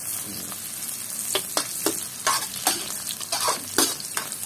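Garlic frying in hot oil, a constant close sizzle broken by repeated scraping strokes of a spatula in the pan, no voices.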